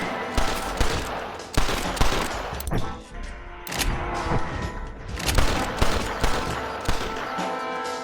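Video game gunfire from Red Dead Redemption in a Wild West shootout: rapid overlapping rifle and pistol shots crack and boom close by in repeated bursts, with no talking.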